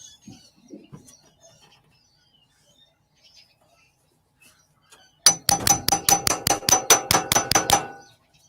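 A hammer bangs about a dozen times in a fast, even burst, loud and close, after several seconds of near silence with faint scattered ticks.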